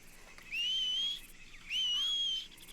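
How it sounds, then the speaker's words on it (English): A man whistles to call his horse in a Red Dead Redemption 2 roleplay game, two sustained rising whistles about half a second apart, clear and close with nothing else over them. "I'm whistling"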